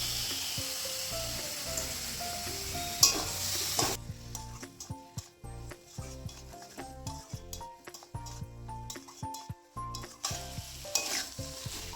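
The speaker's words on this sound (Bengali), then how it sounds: "চিকেনটাকে মশলার সঙ্গে ভালো করে মেশাতে হবে, নেড়ে চেড়ে।" Chicken pieces frying with spices in a pan give a crackling sizzle, with irregular spatula scrapes and clatters as they are stirred and turned, close and fairly loud, no talking.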